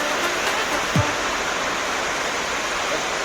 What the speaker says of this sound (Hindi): इधर भी मस्त बारिश हो रही है